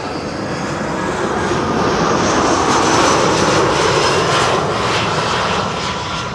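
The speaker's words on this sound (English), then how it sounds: "Croatia Airlines Flight 450 arriving from Zagreb, A319." A Croatia Airlines Airbus A319 arriving from Zagreb lands on a breezy morning, its steady engine roar holding loud and continuous throughout, swelling slightly in the middle as the airliner passes close by.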